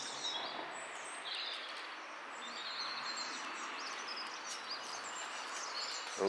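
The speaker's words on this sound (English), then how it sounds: "little birds there, listen to them all." Many small birds chirping and twittering at once, a thin, continuous chorus of high calls at moderate distance with no voices.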